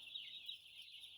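A dense, steady chorus of high chirping from a flock of 3.5-day-old broiler chicks of poor quality, showing signs of coli infection, fills a poultry house continuously at moderate level.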